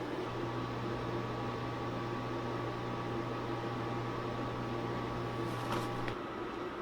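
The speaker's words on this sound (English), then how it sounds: "I'm going to go ahead and stick it in the flash dryer" A steady mechanical hum with a low drone and fan-like whoosh of a screen printing flash dryer running at 275 degrees, curing low-cure ink, cutting off near the end.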